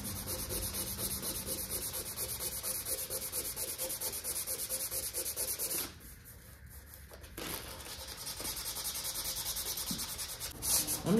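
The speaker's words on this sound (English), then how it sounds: "I'm just gonna sand this whole thing with 320 just to give it a good scratch" Sandpaper of 320 grit scrubbing across the firewall of a 1978 Ford, a steady close rasping rub that keeps going for most of the stretch, drops out briefly around the middle, then resumes.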